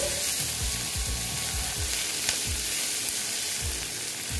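Chopped green chillies sizzle in a hot frying pan while an egg and okra dish cooks, giving a steady close crackle with soft stirring scrapes repeating throughout.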